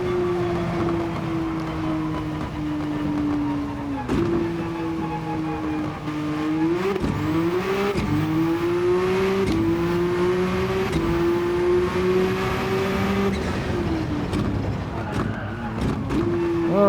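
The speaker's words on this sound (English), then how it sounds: "Let's get some insanely fun acceleration out of this Porsche 968" A 1988 Porsche 968 C in a racing game on the Nurburgring, engine revving hard at full throttle with rising pitch sweeps through gear changes, loud and continuous, with occasional tire squeal and a voice talking over it.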